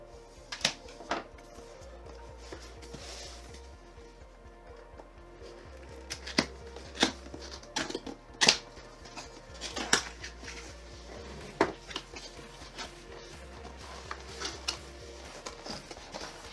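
Box of a Zhiyun Weebill Lab gimbal being cut open, with sharp scraping and tapping cardboard noises spread across the span and a steady low hum beneath.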